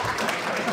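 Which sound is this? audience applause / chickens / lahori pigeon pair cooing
audience applause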